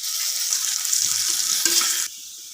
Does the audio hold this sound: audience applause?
no